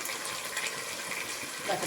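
Soy sauce is poured into a cooking pan for a home lunch, a soft, steady liquid hiss and splatter heard close and fairly quiet, with faint talking.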